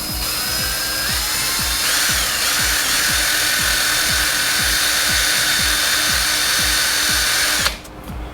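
Vespa ET4 starter motor spun by a power drill while sandpaper is held against it, a steady loud whirring grind with a rhythmic scraping pulse throughout, cutting off abruptly near the end.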